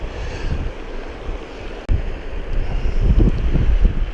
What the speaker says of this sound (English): so the wind's at my back